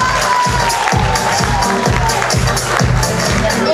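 Crowd at a Romanian school freshmen's ball cheering and applauding over a pulsing music beat, a loud, sustained wash of shouts and claps.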